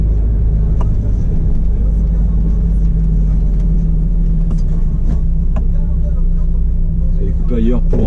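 Truck on the road heard from inside the cab, a loud continuous low engine drone and road rumble with occasional clicks and brief faint sounds near the end, no let-up throughout.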